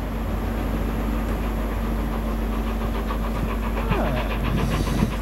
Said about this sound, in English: Perfect steaming, isn't it